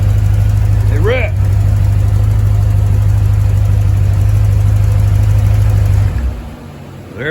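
A Paxton-supercharged C4 Corvette with a TPI ZZ3 5.7 V8, Edelbrock High Flo parts and Bosch SVO injectors idles loudly and close on a first start, a deep steady rumble with a brief whine, then cuts off near the end; voices talk over it.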